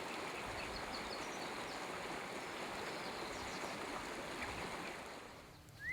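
Flowing water of the Verde River in Arizona, a steady broadband rush of current over rocks, close and continuous, with faint birdsong above it and no voices.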